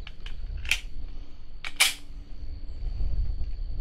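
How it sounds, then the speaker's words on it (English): Handgun rounds are fired downrange at a shooting range: two sharp, cracking reports about a second apart, each preceded by lighter mechanical clicks, over a low background rumble. "let's fire a few rounds downrange."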